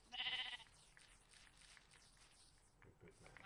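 A sheep in the Minecraft video game gives one short bleat right at the start, followed by faint footsteps and quiet background sounds.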